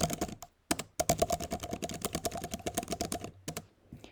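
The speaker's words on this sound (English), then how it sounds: "you can delete it again and you can write with your keyboard." Fast, close typing on a computer keyboard, with crisp key clicks in quick bursts and a couple of brief pauses.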